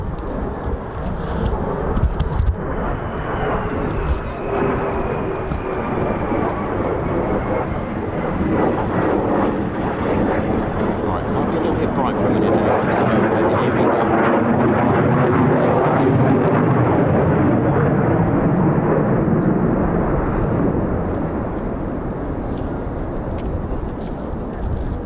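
Military jets, F-15 and F-35 fighters at RAF Lakenheath, produce a loud, sustained roar that rumbles continuously throughout, with broadband engine noise swelling and holding steady and no speech over it.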